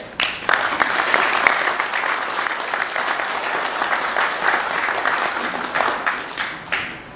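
Applause for a guest at a year-end forum of a high school alliance in a hall, a loud, sustained round of clapping from a seated audience with no speech over it.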